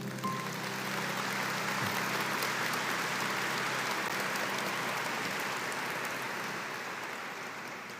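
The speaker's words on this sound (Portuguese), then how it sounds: "Vamos aplaudir aqui os nossos atores." Church congregation claps for the actors after a Sunday service skit, a broad sustained wash of applause from a roomful of people, steady and fairly distant, slowly fading toward the end without any speech.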